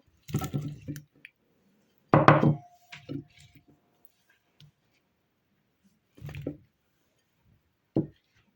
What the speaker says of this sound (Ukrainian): Тепер в замариноване м'ясо додаю картоплю.